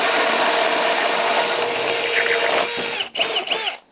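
Cordless Ridgid high-torque hammer drill running at speed 1, a steady loud whine with grinding hum that holds for nearly three seconds, then stutters and cuts out in bursts near the end.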